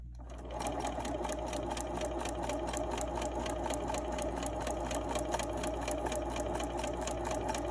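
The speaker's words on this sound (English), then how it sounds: "I'm going to start on the outside of the dotted line, and then I'm going to sew just a few stitches past this line" A sewing machine stitches a quilt block in one steady, continuous run, its rapid needle clatter close and even from start to finish.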